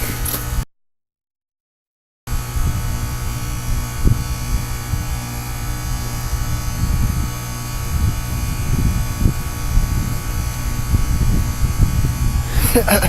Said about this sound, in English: People, if your heat pump's doing this, it's totally normal.